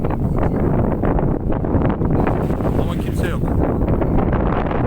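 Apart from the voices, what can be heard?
wind blowing into the microphone on a beach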